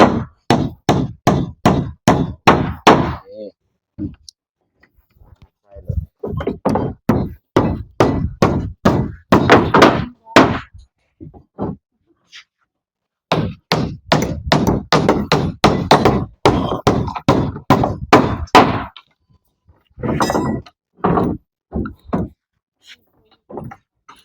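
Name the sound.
hammering, pounding during house construction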